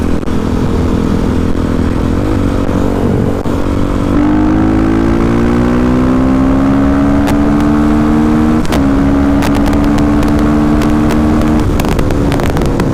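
A supermoto motorcycle accelerates hard in fifth gear from about 55 to 90 mph, the engine note climbing steadily and loud and close throughout, with wind rush over it and no talk.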